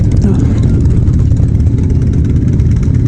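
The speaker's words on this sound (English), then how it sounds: "So you can see a lot of bikes rolling out" Many motorcycles roll out together on the Pink Ribbon charity ride in Sydney, a dense, steady engine roar from the pack close by, with voices underneath.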